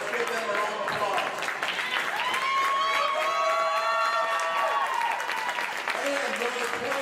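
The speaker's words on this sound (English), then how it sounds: "Let's give them a round of applause." Crowd applauding the runner-up team at a youth hockey championship, steady clapping and cheering in an arena with a voice over the PA and music-like tones in the background throughout.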